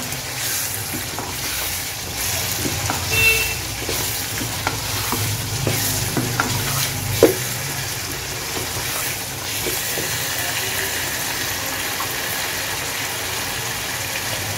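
Beef karahi being stirred in a hot pan after garam masala and black pepper go in, a continuous close sizzle and frying hiss with scraping spoon strokes throughout, no talking.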